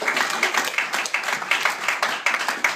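A small audience claps in applause as a vote for a contestant at a men's reading group event, with brisk, steady clapping that carries on for a few seconds at moderate loudness.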